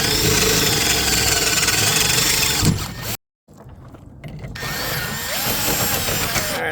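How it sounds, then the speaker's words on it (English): A 1/4 inch drill whines loudly as it pre-drills a hole for a roll pin, stops abruptly for a moment of near silence, then spins back up to a steady grinding drone. "Now I will pre-drill it so I don't have to work so hard with the 1/4 inch drill."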